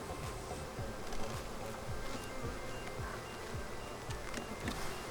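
Honeybees buzz inside a busy, recently split beehive, a dense continuous drone close by with individual bees whirring past, and no talking.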